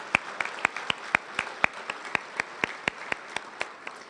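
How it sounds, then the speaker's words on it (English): Applause for retiring Senator Dvorsky at the Iowa City Chamber of Commerce 2018 banquet comes through as sparse, evenly paced claps, fairly faint and distant, with no talking over them. "let's give him a special round of applause"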